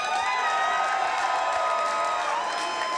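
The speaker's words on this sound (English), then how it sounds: "Crowd appreciating a very good fight." Crowd cheering and applauding after an MMA fight, a steady dense roar of claps, shouts and whoops that stays loud and unbroken throughout.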